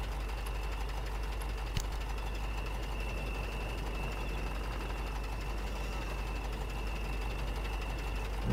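A Kama truck's engine runs submerged in the MudRunner video game, water-damaged but still working: a steady, muffled, low mechanical drone with a faint high whine, broken once by a single sharp click.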